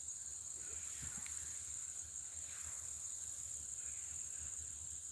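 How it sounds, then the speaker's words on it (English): A tree frog calls in the woods, a steady faint high-pitched trilling chorus alongside insects, continuous and distant-sounding with a few soft background knocks and no clear speech. "the creature of the woods here is that tree frog."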